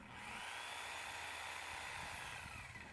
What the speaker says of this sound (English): The Sawzall went right through it.